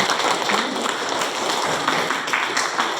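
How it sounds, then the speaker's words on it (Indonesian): Applause for students at a Year 9 farewell ceremony at SMPN 3 Pagedongan school, a continuous, fairly dense wash of clapping from a crowd that holds at even loudness throughout. "Tepuk tangan untuk anak-anak kita."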